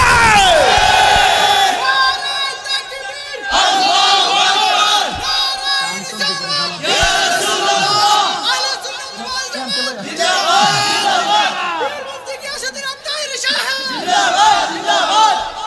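A large crowd at a religious gathering chants slogans together in loud, rhythmic waves of massed voices, each phrase rising and falling in repeated bursts.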